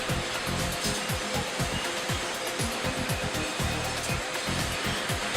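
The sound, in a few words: recycling plant conveyor belt machinery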